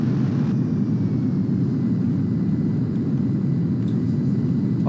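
Airplane engine in the GTA 5 video game drones as a steady low rumble with a constant hum, continuous and fairly loud with no talking over it.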